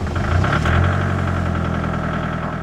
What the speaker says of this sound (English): Maybe just get off the pedal and just let it sit and idle.